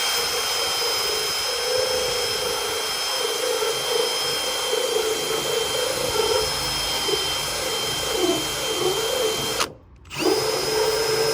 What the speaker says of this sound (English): Now this is using a toffee wheel